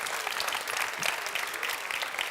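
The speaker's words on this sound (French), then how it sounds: "On peut l'applaudir encore plus fort et plus chaleureusement" Steady applause from an audience at a pastry show demonstration, dense clapping that carries evenly through the whole stretch with no voices rising above it.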